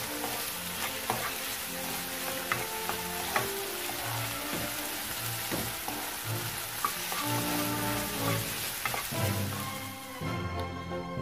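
Mushrooms sizzle steadily in a frying pan for a mushroom omelette, a continuous close hiss with occasional stirring scrapes and taps, and no talk.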